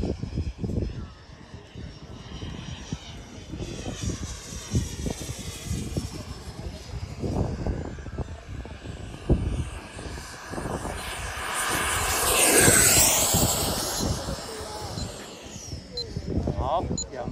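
An XFLY 80mm T7A radio-controlled ducted-fan jet roars overhead, a rising then falling pass peaking loud near the end, with someone speaking throughout and handling noise underneath.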